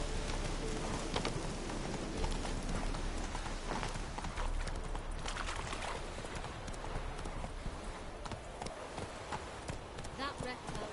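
In The Witcher 3 video game, the horse Roach gallops with quick, continuous hoofbeats under rain-like ambience, while someone talks over the sound.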